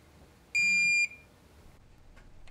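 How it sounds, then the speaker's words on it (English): A digital torque wrench gives one clear half-second electronic beep at close range as it nears its target torque, followed by faint vibration buzzing and small clicks in a quiet room. "It gives you feedback in the form of a beep when you near your target, and it vibrates once you hit it."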